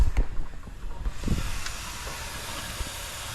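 Coolant sprays with a steady hiss from an exploded radiator on a Lexus IS300, with a few bumps and knocks near the start, then a constant quieter rushing spray.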